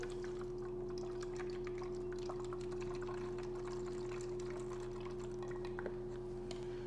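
Water poured into a cup of thin candy paint, a soft steady trickle of liquid filling the container, faint and close against a constant low electrical hum in the workshop.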